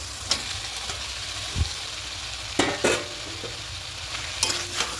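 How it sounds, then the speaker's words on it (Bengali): Fried potatoes tossed into a pan of cabbage and chicken, with a soft steady sizzle under scattered scraping stirs and a few spoon knocks against the pan, close and moderately quiet. "এবার ভেজে রাখা আলুগুলো এখানে দিয়ে দেবো"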